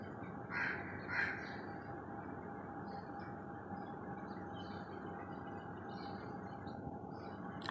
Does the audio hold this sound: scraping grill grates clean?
no